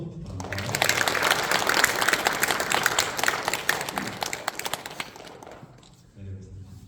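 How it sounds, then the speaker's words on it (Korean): A church congregation at a worship service breaks into sustained, full applause of many hands clapping, which thins out and fades near the end. "큰 박수 부탁드립니다"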